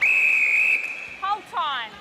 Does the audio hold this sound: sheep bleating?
no